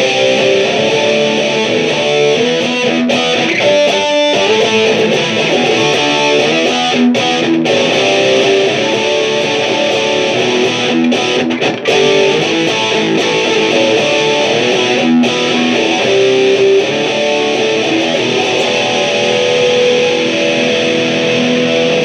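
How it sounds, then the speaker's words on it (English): Electric guitar played through a Keeley Darkside distortion pedal on its tight metal setting, giving a thick, continuous saturated tone with quick chugging bursts, loud and steady with no voices. "This is my favorite distortion pedal."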